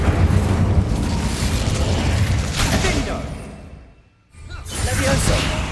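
Incendio fire spell cast in Hogwarts Legacy, a dense roaring blast of fiery rumble and whoosh that drops away briefly before surging back, loud and continuous with game speech mixed in.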